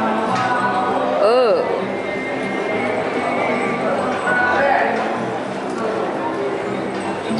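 A team of draft horses at a farmers' horse pull makes scattered hoof clip-clops, heard under steady crowd noise and someone talking nearby, with one brief high wavering call.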